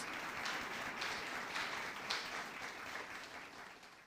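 Congregation applauding during a church sermon: a steady, dense wash of clapping from many hands, moderately distant, swelling slightly and holding throughout with no talk over it.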